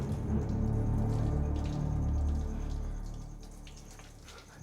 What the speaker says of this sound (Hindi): पानी के बहने की आवाज है।